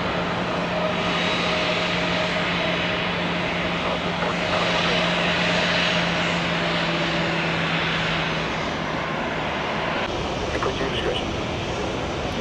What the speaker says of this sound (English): If this plane was going any slower, it would be going backwards.